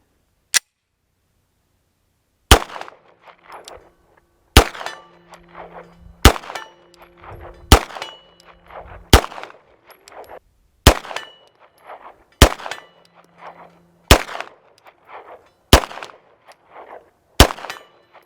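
A Beretta M9A3 9mm semi-auto handgun fires nine spaced single shots at a steel target 63 yards out, each sharp crack followed by a ringing metallic clang, with quiet gaps between shots.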